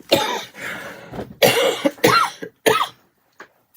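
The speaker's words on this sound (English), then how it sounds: "occasionally I still have that cough" A series of harsh coughs in separate bursts, close to the microphone, with short pauses between them and no talking.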